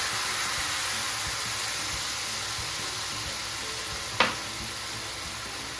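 Steady sizzle of coral tuile batter made with chili powder poured into a hot pan, a continuous frying hiss with one brief sharp crackle near the end.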